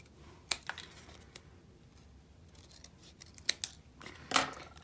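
Scissors cut a scalloped edge into paper for a gift card box, giving a few sharp, close snips spaced over several seconds against a quiet background with faint rustling.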